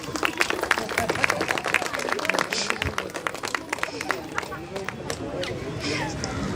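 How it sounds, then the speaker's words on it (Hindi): People at a Christmas party clap, a scattered burst of applause rising early and thinning out, mixed with chatter and voices talking over it. "ताली तो बजा दो यार।"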